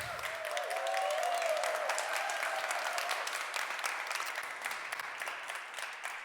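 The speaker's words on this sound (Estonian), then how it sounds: "Nii et Edale võib teha suure aplausi" A large audience applauds at an integration awards ceremony, steady clapping filling the hall for several seconds after a brief tonal ring at the start, gradually thinning toward the end.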